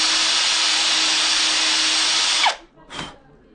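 Power drill boring small holes in a thin wooden hiking stick, a loud steady whine that cuts off abruptly, followed by one short burst of the motor.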